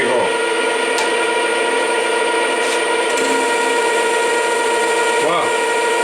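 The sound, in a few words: Schaublin lathe cutting a variator shaft, half-millimetre pass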